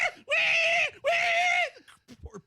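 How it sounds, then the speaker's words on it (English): A pig being handled by police officers screams in two long, loud, shrill squeals, close by, followed by a few fainter grunting sounds. "Poor pig just screaming."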